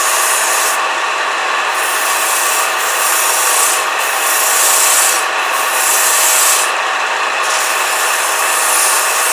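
Steady abrasive rubbing of 180-grit sandpaper against wood spinning on a lathe, loud and continuous, with brief rhythmic variations as the paper shifts.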